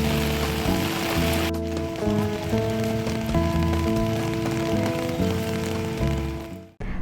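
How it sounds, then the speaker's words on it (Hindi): Heavy monsoon downpour in Korba, India, a steady dense hiss of rain hitting surfaces close by, with faint tonal hum running underneath, continuous throughout before cutting off abruptly near the end. "कोरबा में हो रही झमाझम बारिश"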